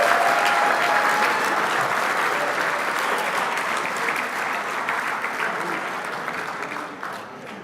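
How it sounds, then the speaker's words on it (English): Sustained applause from a banquet audience at a radio-control car racing world championship awards ceremony, loud and steady, slowly fading toward the end. "Make sure that applause is loud and proud."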